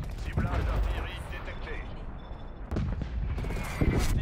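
An artillery strike in a video game, heavy booming impacts and rumbling blasts with mechanical clatter that return in bursts, loud and close.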